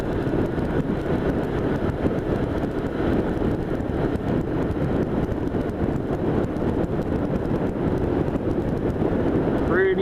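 Strong steady wind buffets the microphone while riding a bicycle under a rain cloud in light rain, a constant loud roar that continues without a break.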